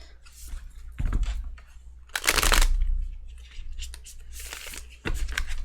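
Tarot cards shuffled by hand close up, with several bursts of riffling and sliding card noise separated by brief pauses, heard alone without talk.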